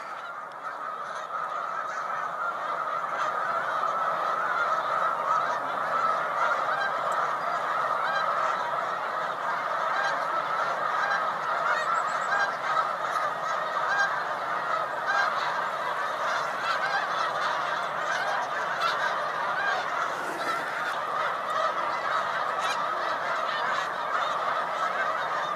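Snow geese honking on Cayuga Lake, a dense continuous chorus of many birds from rafts out on the water, steady and fairly loud throughout, with no talking.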